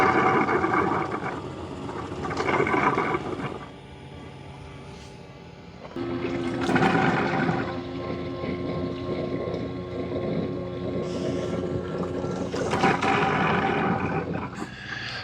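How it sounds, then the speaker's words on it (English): A Narwal Flow robot mop washes its mop in its base: a loud churning roar of running motor and swirling water that swells, eases, then rises again in long waves, with no talking. "So the mop washing is kind of a process. This is taking a while. It's not really loud. It's just different."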